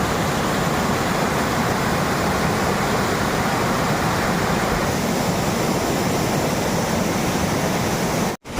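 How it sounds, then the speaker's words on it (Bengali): A small waterfall at Mukutmanipur, near the dam in Bankura, gives a steady, loud broadband rush of falling water that continues unbroken for several seconds and then cuts off abruptly, with no voices. "একটু নিচের দিকে আসলেই কিন্তু এরকম ভিউ জাস্ট খুব সুন্দর একটা ছোট্ট ঝর্ণা"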